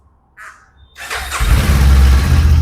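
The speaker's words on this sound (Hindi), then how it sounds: "ये आपकी बाइक स्टार्ट हुई, गुड थंप, अच्छा थंप है मोटरसाइकिल में, स्मूथ मोटरसाइकिल वॉइस।" A bird calls once, then a Kawasaki motorcycle engine cranks and catches, settling into a loud, steady, thumping idle close by.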